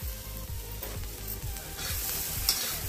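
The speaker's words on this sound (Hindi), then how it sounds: "इसको भी अच्छी तरह से भून लेना है और ब्राउन होने तक भूनना है।" Potato and drumstick vegetables fry in a hot pan, a continuous sizzle broken by repeated scraping stir strokes of a spoon, close and fairly quiet.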